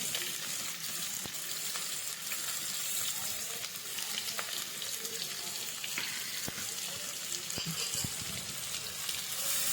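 Onions, green chilies and curry leaves frying in a pan for prawn thokku, giving a steady, dense hiss and sizzle throughout with occasional small crackles and pops, close and continuous.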